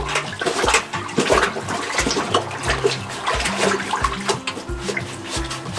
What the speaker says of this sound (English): Now we're gonna try the plunger washing wand.